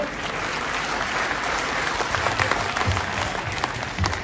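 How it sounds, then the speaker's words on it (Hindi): Crowd applause at a 392nd birth-anniversary celebration honoring Veer Shiromani Mukundas Khinchi, a steady dense wash of clapping with a faint murmur of voices, moderately loud throughout. "तालियां जोर बजाओ।"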